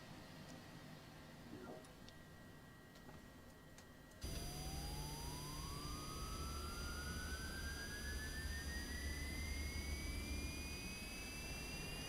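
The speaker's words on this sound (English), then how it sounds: "Alright, let's start the engines." Jet engines spool up in Microsoft Flight Simulator 2024, a quiet cabin hum giving way to a sudden loud whine that rises steadily in pitch and keeps building over a constant roar.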